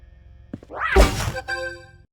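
Crawler enemies breaking into pieces in an indie video game, a single heavy thunk with a crunching, rumbling burst followed by a short ringing decay, heard alone.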